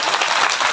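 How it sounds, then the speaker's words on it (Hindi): A crowd at a devotional gathering with a guru breaks into brief, dense applause, a loud steady wash of many hands clapping with no gaps. "ताली की आवाज तो ऐसे है ना जैसे पता नहीं कितने देर से भूखे होते हैं।"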